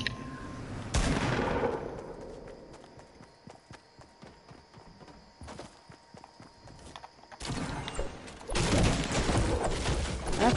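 Video game gunfire including a shotgun, with a loud burst at the start, scattered sharp shots through the middle, and heavier sustained firing toward the end.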